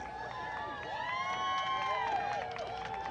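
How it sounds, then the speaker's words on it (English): Spectators at a dog relay race cheer and shout together in a continuous, fairly distant crowd roar, with overlapping voices rising and falling throughout. "Crowd cheering on this team."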